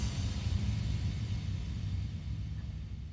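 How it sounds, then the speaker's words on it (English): A music-production impact kick effect used for dramatic emphasis in a song, a deep, booming low hit whose heavy rumbling tail slowly fades over a few seconds, heard alone. "So first thing we'll start with is this impact kick,"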